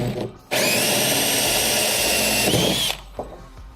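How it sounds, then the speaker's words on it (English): A power drill spins a 1 3/8 inch hole saw into a plastic kayak rail, one loud sustained whine of about two and a half seconds, close up, with faint handling noise before and after. "Use a 1 3/8 hole saw for drilling your hole to accommodate the recess in the Scotty flush mount."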